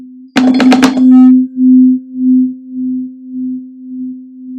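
After a brief burst of clattering notes, two close steady tones sound together, their loudness swelling and fading in a slow, regular wobbling beat.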